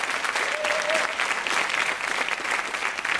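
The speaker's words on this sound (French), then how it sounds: "mesdames et messieurs, ça mérite quelques applaudissements quand même" A studio audience on a French TV shopping show applauds a clever handbag, a steady, fairly close round of clapping filling the whole few seconds, with no voices over it.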